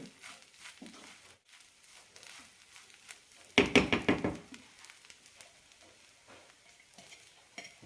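Oats upma with grated coconut being stirred in a pan: a short burst of scraping, rhythmic stirring strokes up close, surrounded by quieter faint clinks and kitchen noise.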